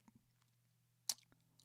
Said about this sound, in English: Sorry for being a douchebag and chewing ice